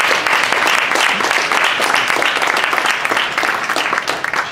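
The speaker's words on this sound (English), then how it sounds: "Let's give her a big round of applause." Audience at a 2014 mobile conference claps in a dense, sustained burst of applause, loud and close, holding steady before tapering slightly at the end.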